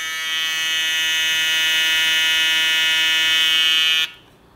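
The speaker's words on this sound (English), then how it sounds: "This is the Instinct Vector motor." A StyleCraft Instinct Vector hair trimmer motor runs with a loud, close, steady buzzing whine for about four seconds, then cuts off abruptly.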